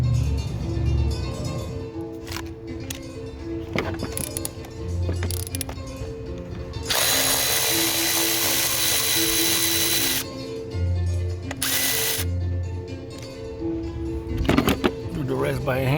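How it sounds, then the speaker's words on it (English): Power drill backing out Torx bolts from the DME engine computer of a 2014 BMW 328i F30 with the N20 engine, heard as sustained loud whirring bursts with pauses between them, alongside clicks and handling noise. "We can go ahead and removing those Torx bolts."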